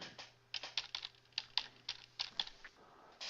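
Typing on a computer keyboard: a brisk, irregular run of close, crisp key clicks with a faint steady hum beneath, ending with a slightly louder press.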